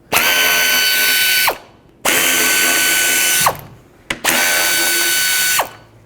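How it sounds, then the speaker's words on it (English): A power drill backs out the 10mm bolts that hold the radiator fans on a 2002-06 Toyota Camry, in three loud whirring bursts with short quiet gaps and a ratcheting stop at the end of each. "The fans are held onto the radiator with 3 bolts. Go ahead and take them out. They're all 10mm."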